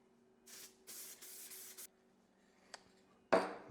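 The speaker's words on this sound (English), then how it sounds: "I'm gonna spray this real quick" Spray adhesive hisses from an aerosol can onto a cardboard backer piece in several short bursts, close and steady, ending with a sharp louder spray or rustle.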